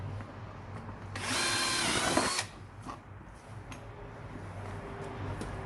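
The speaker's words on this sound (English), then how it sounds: "And drill straight through it." A brief, loud burst of power drilling cuts through a plastic armrest part for a Suzuki Swift for about a second, followed by quieter handling noises.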